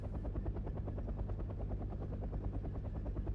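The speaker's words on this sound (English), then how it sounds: "that's a Chinook" A Chinook twin-rotor helicopter in the strategy game Wargame: Red Dragon gives a loud, steady, rapid rotor thump with a deep engine drone, close and without pause.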